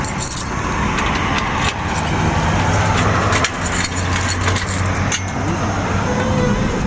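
Keys jangle in a hand close by, set against a steady car engine idling and road noise, with short metallic rattles over a constant loud hum.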